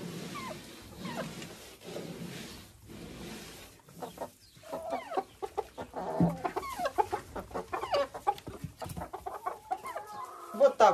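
Laying hens clucking and squawking in a coop near a feeder, a steady, lively chorus of close, overlapping clucks that grows busier and louder, with faint talk underneath.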